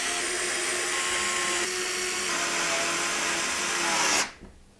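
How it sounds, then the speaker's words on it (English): A power screwdriver drives long radiator screws to fix fans onto a Valkyrie Dragonfang 360 AIO radiator, giving one close, steady whine for about four seconds before it abruptly stops. "we're going to use the long radiator screws that come with the AIO to secure the fans to the radiator"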